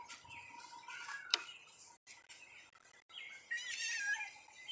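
A hand-raised female robin gives a few thin, high chirps close by, scattered through a quiet indoor background with some light ticking sounds.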